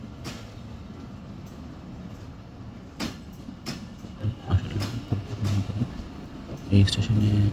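A commuter train at a small railway station bound for Rajshahi, heard as clanking carriage knocks and rattles that grow louder and closer toward the end, with people talking over the background station noise.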